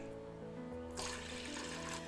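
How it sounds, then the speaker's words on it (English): Water pours into the bottom of an antique brass idli steamer, a steady close rushing stream that swells louder partway through, running over a faint low hum. "we have to pour water in the bottom"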